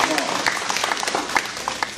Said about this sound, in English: I think we should applaud the panel for what it has done thus far